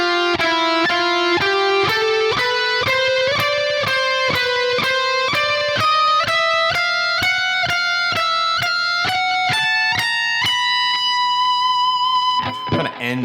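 Distorted electric guitar plays a shred lick slowly, a steady run of evenly spaced picked notes stepping upward in pitch, loud and alone, ending on a held note.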